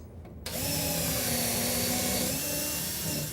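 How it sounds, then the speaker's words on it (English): A power drill whirs up abruptly and runs steadily at high speed while pre-drilling screw holes in a wooden face frame cabinet, a loud, continuous whine after a brief quiet start. "we're going to pre-drill for our screws"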